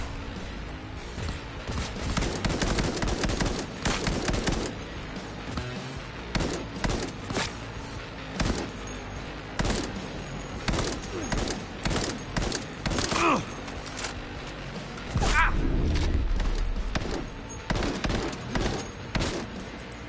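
Tech pistol gunfire in the Cyberpunk video game: dense, rapid bursts of electronic shots repeating across the whole stretch, loud and close, with short pauses between volleys.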